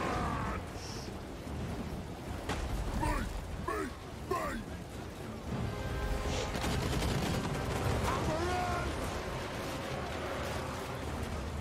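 Artillery barrages in Total War Warhammer 3 rumble and crack continuously across the battlefield, with someone speaking over the din throughout.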